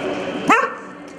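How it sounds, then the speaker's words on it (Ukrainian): A stray dog lets out a single sharp bark midway, near and fairly loud, over a low steady background murmur. "Безпритульні собаки, вуличні друзі або небезпека для життя?"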